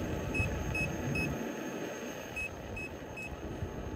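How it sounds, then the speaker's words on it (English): A Gotway Tesla electric unicycle's low battery alarm sounds as repeated short, high electronic beeps in small clusters, coming intermittently over steady rumbling road and wind noise while riding. "The low battery alarm now."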